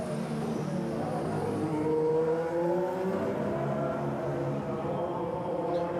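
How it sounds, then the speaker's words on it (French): A Formula 1 car lapping the circuit during a session, a steady engine whine with slowly shifting pitch, heard at a moderate distance under a broad background roar. "Raikkonen avec Romain Grosjean n'a pas encore de chrono, mais lui est en piste, le Finlandais"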